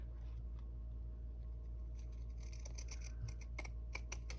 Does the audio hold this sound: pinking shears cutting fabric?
yes